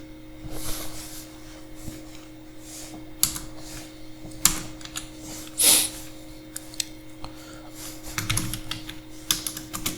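Typing on a computer keyboard: scattered, irregular key clicks with a few louder isolated strikes over a steady low hum, close and fairly quiet, no voices.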